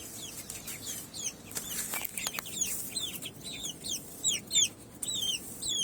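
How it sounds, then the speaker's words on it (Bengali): Chickens, including Kadaknath and tiger birds, cluck and chirp while pecking at grass, with repeated short calls of varying loudness that cluster toward the end. "এই যে মুরগি ঘাস খাইতেছে"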